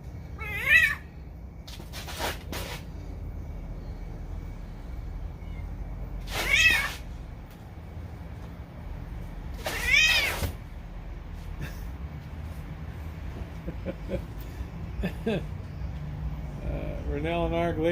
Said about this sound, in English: Crow, the cat freaks out.